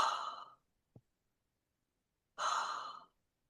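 Two long, audible inhalations through the nose after rubbing an essential-oil product between the hands, close and quiet, separated by a brief pause with a tiny click between them.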